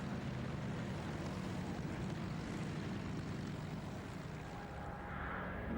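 A Gloster Gladiator biplane flies at the Duxford Flying Legends air show in 2002, its propeller engine a steady, full drone that holds without pause throughout, with no voices.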